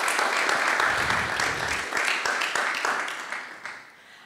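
An audience claps for the first guest arriving at a French-language talk on freelancing, a steady wash of applause that thins and fades toward the end.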